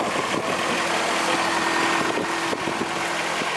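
A Honda K24 engine idles in a Toyota MR2 with a twin-disc clutch, giving a steady, fairly quiet drone with a faint even pulse that runs through the whole stretch, close by and with no talk over it.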